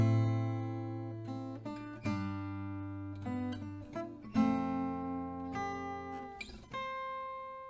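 An acoustic guitar plays the intro of a song: quiet, picked single notes and ringing tones in an unhurried melodic line, heard alone.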